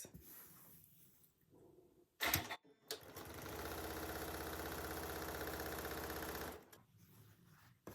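A sewing machine stitches quilt block pieces for a tulip star sampler block, running in a steady, even whir for about four seconds after a few quiet clicks, then stopping.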